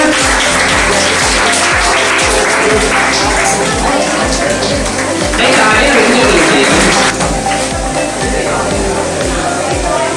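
Loud, sustained applause from a crowd at a school award function, dense clapping filling the room for about ten seconds, with some voices mixed in.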